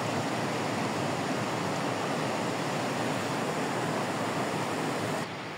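Rushing water of the Khimti river, a large river flowing down from the Everest Himalaya, roars as a loud, steady broadband wash with no pauses and no voices.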